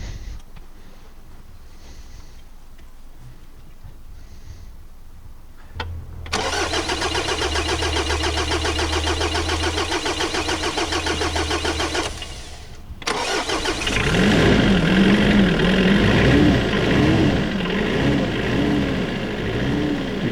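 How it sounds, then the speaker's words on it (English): A Mitsubishi L200 with the 4D56 diesel engine cranks after a head install, then catches and settles into a loud, steady diesel idle. A second cranking burst leads into a rougher, louder running sound close by. "We're going to need to keep the engine running to make sure that we're getting enough coolant flow for the coolant to bleed."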